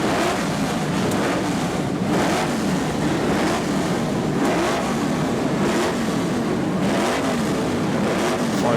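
Several Formula 5000 race cars with V8 engines, mainly Chevrolets, roar and rev together continuously at Goodwood, a dense, loud blare with repeated surges, buffeted by wind.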